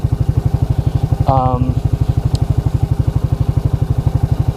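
A Suzuki King Quad 300 ATV that has sat unused for a long time idles on its own at close range with a steady, fast low putter, and a voice briefly cuts in over the engine.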